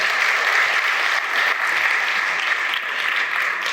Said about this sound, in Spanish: Dale un fuerte aplauso al Rey por su palabra.